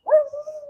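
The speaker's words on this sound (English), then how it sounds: "neighbor's dog." A neighbor's dog gives a single drawn-out bark that trails into a whining tone, heard at moderate distance with no talk.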